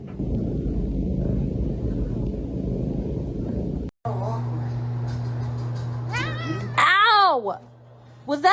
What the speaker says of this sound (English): Good kitty, I say as I pet on Kitty